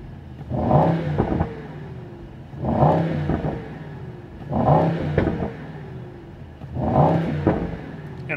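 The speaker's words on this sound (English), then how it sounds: "when you are downshifting, upshifting, it has so much actually noise from the pops and crackles" A 2024 Mercedes-AMG GT 63 coupe's V8 being revved, four loud, evenly spaced blips that rise and fall with a rough burbling edge and idle between them, close and alone with no voices.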